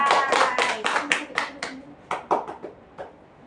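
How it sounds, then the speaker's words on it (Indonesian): Students in a micro-teaching classroom clap in a short run of distinct, fairly loud hand claps that thin out and fade toward the end, with a faint voice in the background. "Tepuk tangan dong buat kalian."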